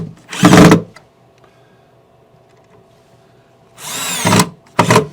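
A power drill drives screws into a cabinet hinge for a Blum Aventos HK top lift system: a loud, close whirring burst, then a long quiet gap, then a second sustained burst followed by a short final spurt.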